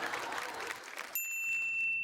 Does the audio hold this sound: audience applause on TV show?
yes